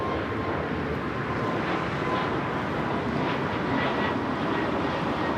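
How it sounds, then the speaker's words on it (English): A British Airways Boeing 777-300ER arriving from London Heathrow lands at LAX, a steady, broad jet roar held at constant loudness throughout, with no talk. "British Airways 283 coming in from London Heathrow on the 777-300ER."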